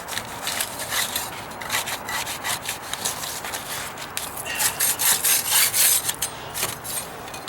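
Oscillating multi-tool blade cutting into wood while repairing deck stairs outdoors, giving a close, gritty buzzing rasp in uneven bursts that swell louder toward the middle before easing off.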